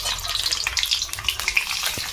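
Eggs fry in a pan with a steady, close hiss and crackle, with faint bubbling pops scattered through the short sizzle.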